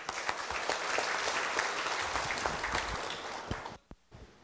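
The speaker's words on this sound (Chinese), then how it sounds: "好，我们热烈掌声。" An audience applauds to welcome a speaker at a Buddhist gathering, steady clapping of moderate loudness that tapers off abruptly near the end, with a few scattered claps after.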